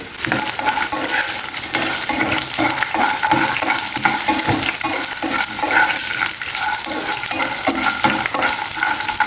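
Green chilies, small onions and ginger pieces fry and sizzle in a pan, with steady stirring and scraping throughout and occasional light utensil clinks, fairly loud and close, no talk.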